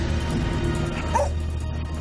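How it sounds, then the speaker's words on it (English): A dog gives a single short bark amid a low steady hum and background rumble, moderately close, the bark brief and slightly muffled. "She barked and stopped"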